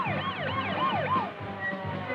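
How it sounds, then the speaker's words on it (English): An ambulance speeds toward a hospital with its siren wailing in rapid up-and-down sweeps. The siren is loud and close, then eases into a steadier tone as it continues under a low engine rumble. "soon an ambulance speeds the injured to a nearby hospital"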